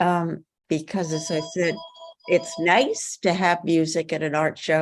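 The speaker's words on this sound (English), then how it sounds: "Sorry about the background phone." A telephone rings in the background of an arts committee meeting, with brief tonal rings sounding faintly beneath a person speaking steadily in the foreground.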